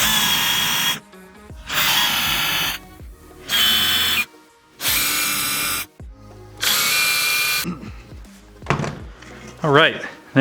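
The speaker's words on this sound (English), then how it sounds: "5/8 Forstner bit. And I'm just going to drill down into each one of these." Power drill boring holes with a 5/8 Forstner bit into wood for a miter saw zero clearance insert, five loud whirring bursts of about a second each separated by pauses, with talking in the later part.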